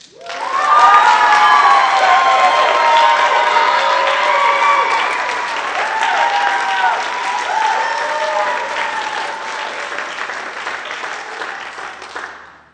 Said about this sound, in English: we give one last big round of applause for our wonderful graduating seniors